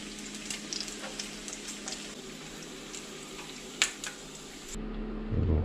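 Hash browns and bacon for a breakfast burrito fry in a pan, a steady close crackling sizzle with scattered pops and one louder spatter, ending in a shift to a deeper rumbling hiss.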